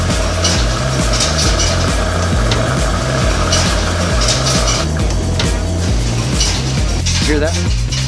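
Coins clink and rattle inside a laundromat change machine, a dense, continuous metallic jingle over a loud mechanical hum that carries on for several seconds.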